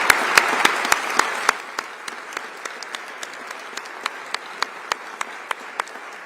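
In the Utah state legislative chamber, applause greets three new senators: a crowd claps densely at first, then thins out into a few scattered, sharp individual claps spaced across the rest of the moment.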